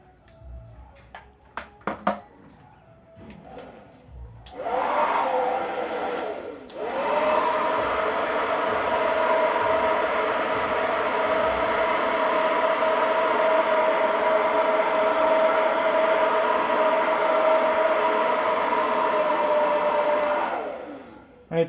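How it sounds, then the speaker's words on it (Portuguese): Hair dryer blowing on hot glue on a handmade Porsche 911 model bumper, starting after some handling clicks and running as a loud, steady whir for about fifteen seconds before switching off. "A gente tá usando aqui um secador de cabelo para poder agilizar pra gente aqui"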